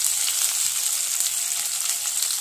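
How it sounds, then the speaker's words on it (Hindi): Sliced onions frying in a pan for chicken malai curry, a steady, close hiss of bright sizzling oil with no talk. "अब मैं इसमें प्याज डाल दूंगी। प्याज को अच्छे से हमें फ्राई करना है"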